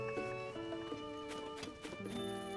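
Horses in Zelda: Tears of the Kingdom neigh and clip-clop over a sustained musical score, with the hoofbeats and whinnies faint and brief beneath the music.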